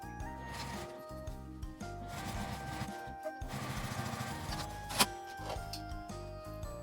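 A sewing machine edge-stitches the right side of a small fabric coin purse close to the seam, running steadily and near for several seconds with brief pauses and light rubbing of cloth, no talking.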